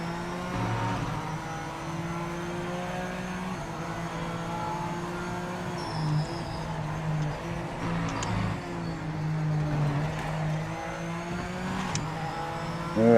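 Racing car engine in a racing video game revving hard against the rev limiter, a loud sustained buzzing drone with steady harmonics and brief shifts, continuous without speech.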